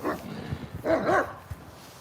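A dog barks in a few short, sharp bursts with brief pauses between them, fairly close and loud, with no talking over it.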